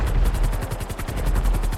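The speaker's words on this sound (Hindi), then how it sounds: "हे कौन फोड़ रहा है यहां पटाखे" Diwali firecrackers bursting in the video game GTA 5, a rapid string of evenly spaced loud cracks in a fast rattling rhythm over a low rumbling bed, close and continuous.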